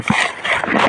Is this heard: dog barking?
yes